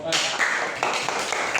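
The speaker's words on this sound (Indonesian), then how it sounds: "tepuk tangan untuk kelompok empat" Clapping from a group of schoolchildren rings out close by in a school physical education class, a brisk burst of applause with voices mixed in throughout.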